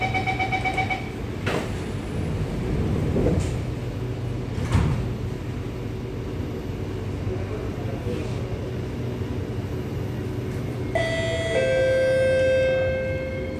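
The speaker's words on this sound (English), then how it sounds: "doors are closing." SMRT C751B train on the Singapore line near Yishun, its sliding doors closing with a couple of thuds over a steady onboard rumble, followed by a bright tonal chime or announcement tone near the end.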